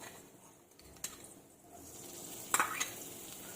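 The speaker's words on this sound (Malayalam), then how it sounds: "രണ്ടും കൂടി ഫ്രൈ ആയി വരുന്നുണ്ട്." Chopped cashew nuts and raisins frying in a pan, a faint steady sizzle with occasional stirring scrapes and a couple of sharper clicks.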